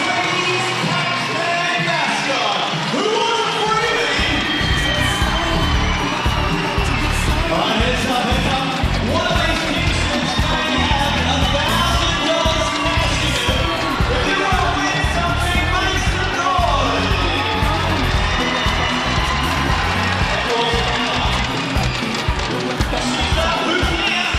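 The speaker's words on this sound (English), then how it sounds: "A lot of noise being made in here with an excellent crowd building" Home crowd at a New Zealand versus Australia basketball game, a loud continuous roar of cheering and yelling with squeaks and thuds of play underneath, building steadily throughout.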